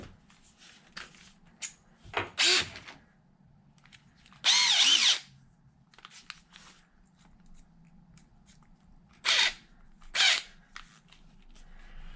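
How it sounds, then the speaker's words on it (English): A power drill whirs in several short bursts, loud and close, separated by quiet pauses with small clicks and handling noises, working on a Losi Super Baja Rey 2.0 RC truck spare tire mount. "me grab a drill bit."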